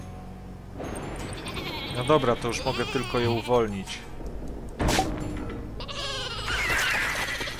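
Sheep bleat repeatedly in the video game Flockers, several wavering cries rising over someone talking, with a thud partway through.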